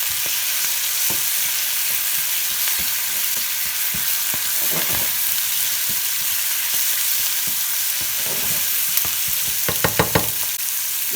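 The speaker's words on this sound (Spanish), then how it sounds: "voy a agregar todas las espinacas" Spinach goes into a hot frying pan for a Greek omelette, hissing and sizzling steadily while a utensil stirs and scrapes through the leaves, with a few louder clinks near the end and no voices.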